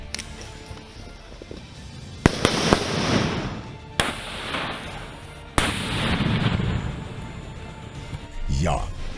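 Sharp blasts from hand grenades thrown during Sikh Regiment combat training go off a few times, each a loud crack followed by a rumbling roar and debris, over a steady background of outdoor noise.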